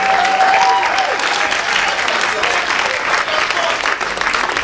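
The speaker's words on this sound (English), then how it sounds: "Let's give one more round of applause for that." Loud, sustained audience applause at a Memorial Day celebration, thick continuous clapping from a large crowd across the full stretch, with a brief tone near the start.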